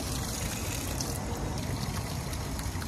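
Water flows steadily from a public drinking fountain in France, a constant hissing trickle heard close up against broad background noise, with no talk.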